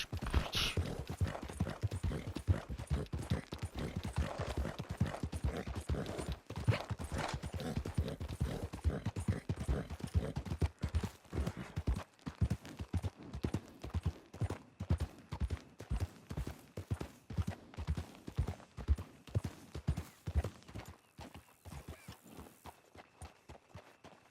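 Horse hooves clip-clop steadily through a Red Dead Redemption 2 ride, a dense, rapid rhythm of close hoofbeats that loosens into distinct, evenly spaced steps toward the end.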